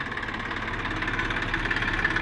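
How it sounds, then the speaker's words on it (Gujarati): A small mini tractor engine idles steadily nearby while its trolley is loaded with sand, a low chugging rumble with an even, rapid pulse and no change in speed. "ટ્રેક્ટરને રેસ પણ આપતા નથી"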